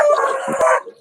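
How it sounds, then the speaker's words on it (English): A dog gives one short, loud bark that rises into a brief howling yelp, close by and lasting about a second. "That is my dog."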